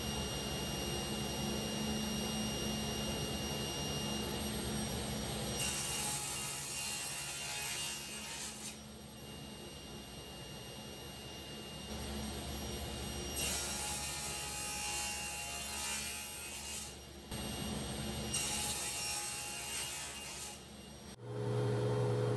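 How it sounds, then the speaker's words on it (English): Purpleheart wood legs are cut to length for a curly maple audio rack, giving several separate bursts of loud cutting noise over a constant workshop hum, with no one speaking. "I cut the Purpleheart legs to the approximate length."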